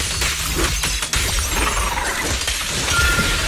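A shattering, glassy crash from an attack in the action game Zenless Zone Zero, with sharp breaking bursts early on over a loud, noisy backdrop of game effects.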